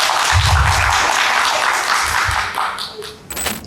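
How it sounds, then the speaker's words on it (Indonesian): Audience applause at a school staff meeting presentation, a short burst of clapping from a room of people, fairly close and dense, fading toward the end. "Tepuk tangan untuk kita semua."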